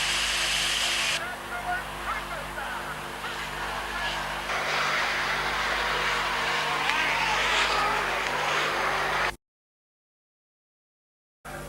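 A sprint car engine roars at a speedway during a 1987 World Sprint Car Championship heat, a loud sustained race-engine drone that runs steadily for most of the clip and then cuts out abruptly.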